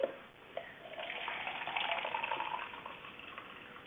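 Water runs steadily from a tap into a measuring container, a continuous splashing gush that holds at a moderate level for several seconds.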